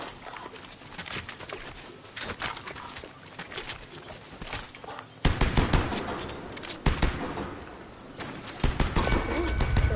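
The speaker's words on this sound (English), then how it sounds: "Hey, who's shooting over here?" Gunfire in a battle royale video game, repeated sharp shots and bursts at varying distances, some near and loud, others farther off, scattered across the whole stretch.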